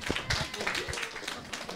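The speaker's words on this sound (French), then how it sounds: "les petits, là, on peut applaudir" Dense, continuous clapping from a group of young children, with many small hands patting unevenly and voices mixed in underneath.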